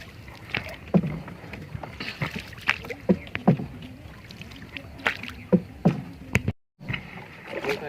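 A rowboat on the Padma river is rowed with a steady series of close oar strokes and knocks against the wooden hull, recurring every second or so over faint water and wind.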